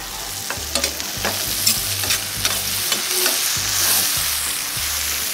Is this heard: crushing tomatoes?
yes